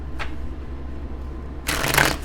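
A brief riffle of tarot cards near the start, then a louder, sustained burst of shuffling at the end, close and crisp over a low background hum.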